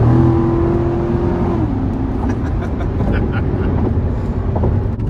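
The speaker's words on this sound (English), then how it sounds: "I've got the Vette in sport mode, so I can already hear the active exhaust is more vocal" A 2019 Chevrolet Corvette Grand Sport C7 in sport mode on a curvy road, its V8 and active exhaust giving a steady, loud low drone from inside the cabin that dips slightly as revs drop early on.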